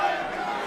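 A wrestling arena crowd roars in one dense, continuous wall of cheering, loud and sustained without a break for the whole moment.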